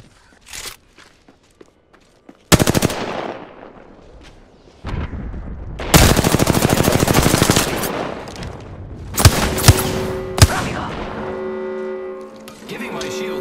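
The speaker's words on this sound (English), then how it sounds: "They're shooting at me." Bursts of automatic gunfire and single heavy shots in an Apex Legends match, loud and close, with rapid rattling volleys separated by brief pauses, footstep-like clatter and a tonal ringing effect near the end.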